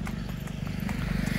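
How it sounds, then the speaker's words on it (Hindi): Hooves of a pure Nukra Punjab mare being ridden on a stud farm, giving a steady, fast clip-clop rhythm that stays close and fairly loud throughout. "प्योर नुकरी पंजाब घोड़ी है दोस्तों ये बुलबुल।"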